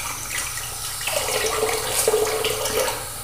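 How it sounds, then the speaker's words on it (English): Tap water runs steadily into a sink while a face is rinsed after a lather of Henri et Victoria Chestnut L'Orange soap and a Zenith boar brush. The splashing is close and continuous, with small shifts in tone and no talking. "go ahead and rinse off my face"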